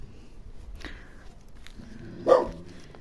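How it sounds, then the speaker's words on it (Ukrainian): Dogs bark faintly in the distance outdoors, with one short bark early and a slightly louder one near the end over low background noise. "ще тут ось собаки гавкають"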